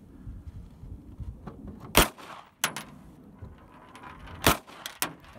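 Three sharp, fairly distant cracks from a Taurus PT92 pistol firing at shotgun shells outdoors, the shots spaced irregularly with quiet ambient noise between them.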